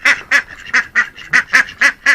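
A mother duck sitting on eggs quacks loudly and close, about nine sharp, evenly spaced quacks in a steady rhythm during a morning feeding with corn, with no talking over them.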